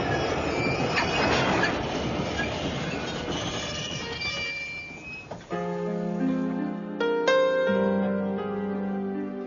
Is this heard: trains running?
yes